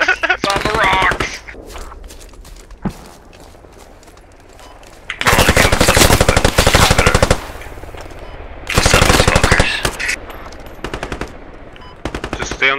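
Rapid machine gun fire in the shooter game Squad, coming in long, loud bursts separated by quieter gaps, while a player talks over parts of it.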